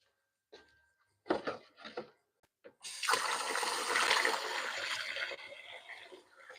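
Potatoes are rinsed under a running tap, with a few short clatters and splashes before a steady close rush of water takes over and fades slightly at the end.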